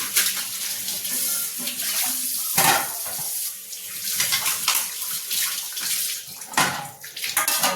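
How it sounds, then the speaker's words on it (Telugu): Tap water pours steadily into a kitchen vessel being filled to set on the stove, a continuous splashing rush with small shifts in pitch as the level rises. "మళ్ళీ ఇంకోళ్ళకి నీళ్లు పడుతున్నా స్టవ్ మీద పెట్టడానికి"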